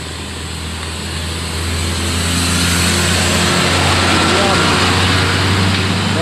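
Intercity bus engine idling and building up as the bus pulls away from the Pendopo terminal for Jakarta, a loud steady low rumble that swells after the first second, with crowd noise and voices around it.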